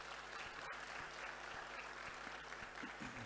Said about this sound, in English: they deserve a big round of applause firstly